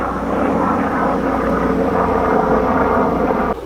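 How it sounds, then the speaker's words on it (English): Overhead a helicopter passes above open hay fields, and its engine and rotor make a steady, broad drone at moderate volume. The sound holds fairly even throughout and drops a little at the very end. "Hold on, there's a helicopter going over"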